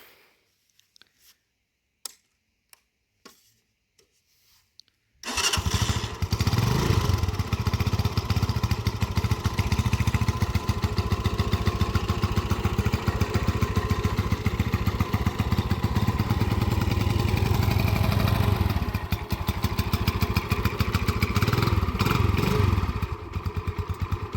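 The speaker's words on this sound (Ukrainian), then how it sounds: "Зараз покажемо, як він буде заводитись на холодну." A few faint clicks, then a Spark SP150R-14 motorcycle engine (SK162FMJ) cold-starts and settles into a loud, steady idle with a rapid chugging pulse, close by.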